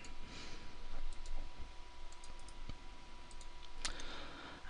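A computer mouse gives a few faint, isolated clicks in a quiet room, with one sharper click near the end.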